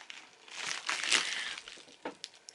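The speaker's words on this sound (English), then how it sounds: "I took a quick break to unbox my Cytonic book I got in the mail" Mail packaging crinkling and crackling as a delivered book is unboxed, irregular close rustles swelling in the middle and trailing off into a few sharper crinkles.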